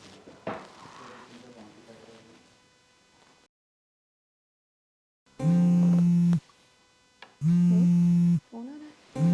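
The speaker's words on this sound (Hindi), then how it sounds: "फोन आ रहा है।" A voice speaks briefly, then silence, followed by two loud bursts of an electronic phone ringtone with a short gap between them.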